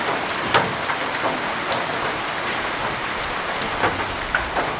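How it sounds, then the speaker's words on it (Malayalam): Dense, steady rain pours down close by in the forest of Periyar Tiger Reserve, a constant wash of drops with occasional heavier splatters standing out. "കാടിനുള്ളിൽ മഴ പെയ്യുന്ന കണ്ടിട്ടുണ്ടോ"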